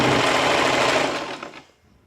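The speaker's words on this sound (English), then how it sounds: "Go on stitching along the sides" A sewing machine runs steadily at close range, stitching along the sides of a draped jacket, then slows and stops near the end, with no voices.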